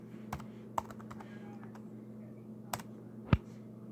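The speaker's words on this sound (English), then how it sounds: "So let me type Facebook." Light clicks on a Lenovo N23 laptop keyboard, a few scattered keystrokes with pauses, close and fairly quiet over a faint steady hum.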